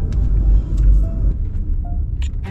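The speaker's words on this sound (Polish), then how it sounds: "Musimy wyjechać po rampie, która jest węższa niż nasze auto" A car climbs a ramp narrower than the vehicle on Brač island, Croatia, its engine a loud, close, steady low rumble throughout, with faint clicks and creaks on top.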